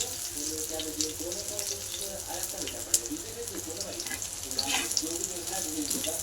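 Food frying in oil on a flat tava, a steady close crackling sizzle that runs throughout with a few louder pops, under a low background hum.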